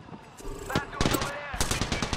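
Bursts of automatic gunfire from an Apex Legends firefight, with several sharp rapid volleys and individual shots close by, growing denser toward the end, and a faint voice in the background.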